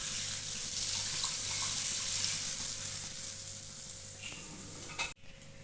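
Water pours steadily into a cooking pot over a cooked-down spice base for a Bengali leaf curry, a continuous splashing rush lasting about five seconds before stopping abruptly.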